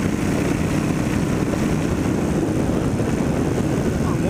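Kawasaki Vulcan 1500 motorcycle engine running on test, a steady, loud, low rumbling drone that holds constant without any break in its rhythm.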